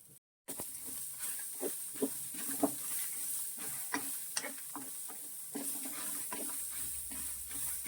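Black peppercorns roasting with dried red chillies in a hot pan give a steady close sizzle and hiss, broken by scraping stirs and small crackling pops throughout, with no talking.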